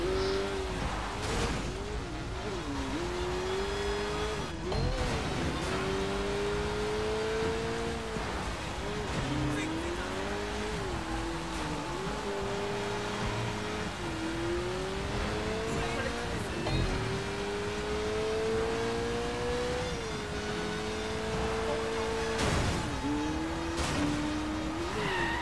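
A car in Sleeping Dogs drives steadily, its engine note rising and falling with gear shifts and slides through drifts, loud and continuous with tyre noise, while someone talks over it.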